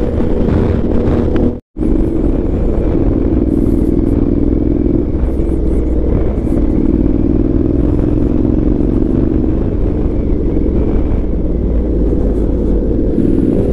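A big bike cruising on a highway at about 120–130 km/h, its engine droning steadily under heavy wind rush across the microphone. The sound is loud and constant, with one very brief dropout near the start.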